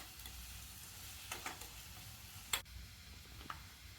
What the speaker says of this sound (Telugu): కట్ చేసుకున్న ఆనియన్స్, పచ్చిమిర్చి వేసి ఆనియన్ దూరగా వేయించుకోవాలి